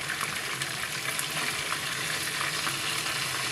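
Chicken pieces frying in a covered pan, a loud, even, crackling sizzle that holds steady from start to finish with small spitting pops scattered through it.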